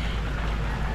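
Heavy rain falls during a typhoon in the Philippines, a dense, steady wash of noise with no breaks across a brief moment, fairly soft in level.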